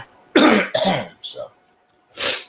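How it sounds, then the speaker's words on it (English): A few sharp coughs close to the microphone, followed by a brief throat-clearing cough after a short pause. "don't know why I keep coughing all of a sudden"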